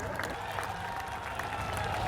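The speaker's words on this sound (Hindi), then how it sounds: "इसके लिए तालियां बजाकर मुख्यमंत्री जी का धन्यवाद करिए सब लोग" A crowd claps steadily for the chief minister, Manohar Lal, at the opening of a new sugar mill in Panipat: dense, continuous applause for about two seconds with no voices on top.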